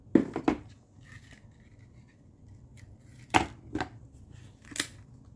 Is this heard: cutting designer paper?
yes